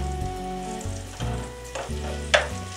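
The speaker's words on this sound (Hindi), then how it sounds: "ऑयल हमारा गर्म हो गया है इस पॉइंट पर हम इसमें केरी ऐड कर देंगे" Chopped raw mango dropped into hot oil on a medium flame for a sweet and sour instant pickle, sizzling and frying steadily and close up, with a few louder crackles and stirring scrapes.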